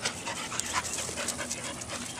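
A dog pants rapidly and rhythmically during a game of fetch with a ball outdoors, close and clearly audible, the quick breaths repeating steadily without pause and no talking over them.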